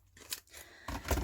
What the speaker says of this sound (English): just grab a pair of scissors